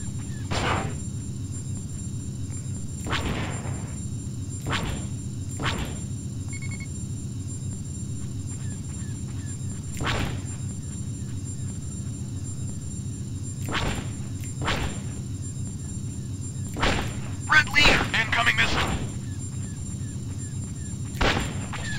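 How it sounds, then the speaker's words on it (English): Repeated paired missile launches in the X-Wing space combat game, sharp thumping bursts scattered every few seconds over a steady low engine rumble, with a denser cluster of shots near the end. "Firing double paired missiles"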